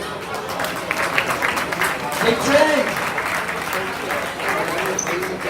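Applause from a banquet audience at an athletics awards night, a steady wash of clapping throughout with voices calling out over it.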